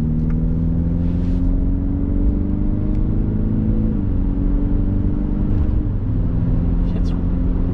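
A 2021 Mini Countryman S All4 with its turbocharged engine pulls away at half throttle, giving a steady low cabin hum whose engine tone climbs and then shifts as it changes gear, with no talk heard.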